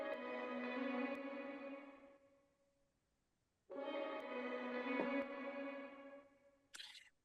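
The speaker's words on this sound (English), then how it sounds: "it's like a reversed reverb." Two swelling bursts of a reversed reverb effect, each smeared tonal wash building and then cutting off, separated by a short silence, with a small bright blip at the end.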